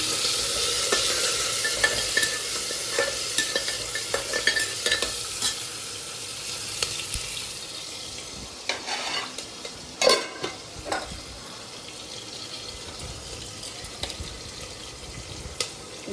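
Rice cooking in a pot in a home kitchen is stirred continuously, a close, steady sizzle and wet scraping with recurring spoon clinks and no talk.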